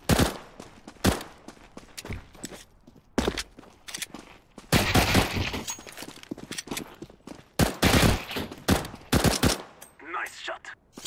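Video game gunfire in repeated bursts, sharp single shots and rapid automatic volleys with short pauses between them, loud and close throughout.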